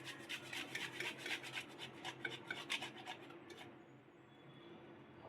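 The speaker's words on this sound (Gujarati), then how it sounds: "ખમણી અને આદું આપણે એડ કરી દઈશું" Close, steady rasping strokes of ginger being grated, a quick rhythmic scrape that stops near the end, leaving quiet background.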